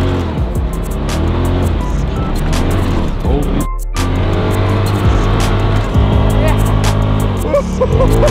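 A Polaris RZR side-by-side revs hard while spinning its tires in snow, its loud engine roaring and shifting pitch almost throughout, close by with a brief dip before surging again.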